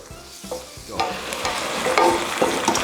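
Tofu and broccoli in a thickening sauce are stirred briskly in a pan, with repeated scraping strokes over a loud steady sizzle, close up and with no talking.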